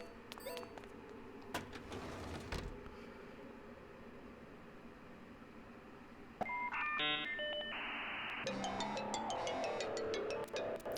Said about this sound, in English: Ah, yes, the sound of a 56K modem.